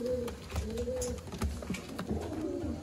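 Chakwal breed pigeons kept in a loft in Sialkot, Pakistan coo softly and repeatedly up close, low rolling calls in a steady rhythm.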